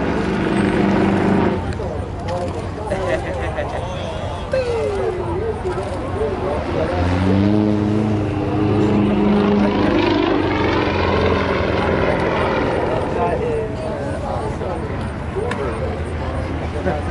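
A propeller aircraft flies overhead at the Canadian International Air Show in 2018, a loud, steady engine drone with rising and falling pitch sweeps as it passes, under crowd chatter and people talking nearby.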